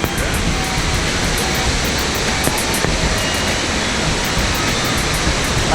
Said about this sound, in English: Lots of waterfalls all over.